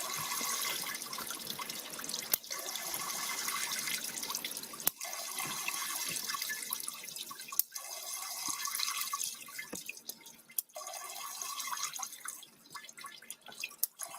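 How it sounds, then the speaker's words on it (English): Water pours and sputters in bursts over about fourteen seconds, broken by several sharp electric zaps, close and fairly quiet with no talk. "You'll hear the zap, and then you'll hear the water start pouring, and then you'll start hear it sputtering"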